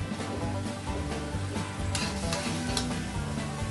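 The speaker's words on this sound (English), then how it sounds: "So just making sure that it's equally mixed, equally sauteed" Menudo sautéing in a pan, a dense continuous sizzle with scraping stirs running throughout, close and loud with no talking.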